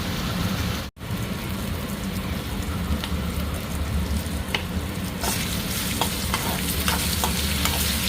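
Eggplant slices frying in a pan with a continuous loud sizzle and crackle, a brief dropout near the start, and sharper pops and spatters building toward the end.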